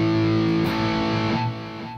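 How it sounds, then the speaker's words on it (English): A distorted electric guitar rings out through a Headrush unit with delay, a held chord sustaining with echoed repeats for a couple of seconds, loud and without voices. "you hear the delay on that?"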